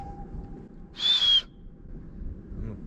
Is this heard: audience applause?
no